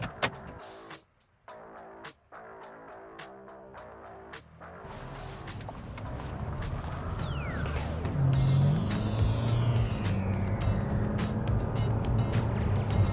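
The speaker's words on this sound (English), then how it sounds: "So it's got nice pull to it. You can hear the engine." Inside a 2015 Kia Forte Koup SX: a quiet start, a few clicks, then engine noise building steadily into a rising drone as it gets moving.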